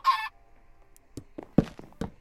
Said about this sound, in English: Fucking chicken, get the fuck out of here.